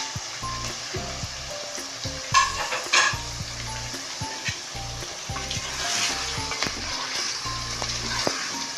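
Chicken pieces sizzle loudly in a pan after the masala has been browned, a close, crackling fry with stirring scrapes and clatters of a spoon against the pan throughout.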